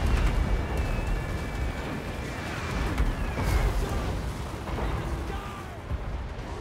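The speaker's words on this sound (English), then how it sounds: "that was one bomb and it took out quite a bit" Bomb and gunpowder blasts from a Total War: Warhammer battle between dwarf and Empire armies boom and crackle in a dense, continuous rumble of explosions and gunfire.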